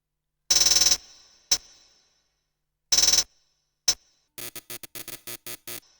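A Polyend Play groovebox sequence with a per-step reverb send fires bright, buzzy bursts and sharp single hits, some trailing short reverb tails, then breaks into a rapid run of short clipped pulses, fairly quiet and without voices.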